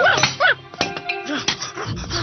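A cartoon dog from the Doraemon animated series gives a few short yips and whimpering whines close up, followed by a low rumbling bark, with no talking over it.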